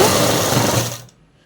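A sewing machine runs steadily while stitching a skirt lining, a loud close whirr that cuts off abruptly about a second in and leaves near silence.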